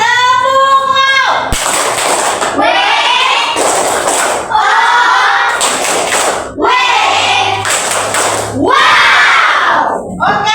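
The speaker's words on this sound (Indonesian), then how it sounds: "Kasih dulu tepuk tangannya. Kita kasih tepuk wow." A classroom of students performs a rhythmic group clap, loud bursts of unison hand clapping and shouts in repeating patterned rounds, alternating with a teacher's chanted calls between them.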